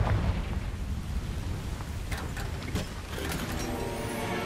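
Confringo spell explosion in Hogwarts Legacy, a loud rumbling blast with crackling debris that persists and rolls on for several seconds, no talk over it.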